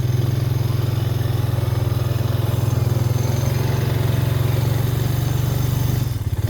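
A four-wheel-drive vehicle engine drones steadily at a low, constant pitch while pushing through deep spring snow in the woods, close and continuous, easing slightly near the end.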